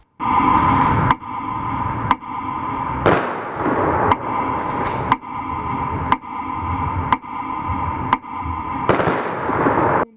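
Loud gunshots fired into the sky at a memorial rally ring out about once a second in a steady volley, each followed by a brief echoing decay outdoors.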